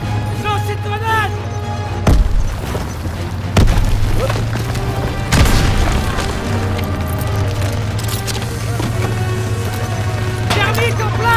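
Heavy booming blasts and splintering crashes from a World War II battlefield in Call of Duty WWII as a grenade and thermite charge go off, three loud impacts over steady rumbling combat noise and music, with shouted voices.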